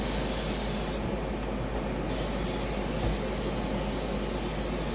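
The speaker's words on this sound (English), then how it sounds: "First thing you want to do is spray this so nothing sticks." Cooking spray hisses steadily from a can onto a pan before chicken nuggets are cooked, a continuous close-up spray.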